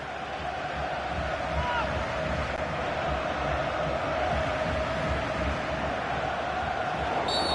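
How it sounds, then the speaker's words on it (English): Stadium crowd in a football video game applauding as a substituted player walks off, a steady, broad roar of applause and cheering held at an even level throughout with no pauses. "It's coming off slowly to the applause of the crowd"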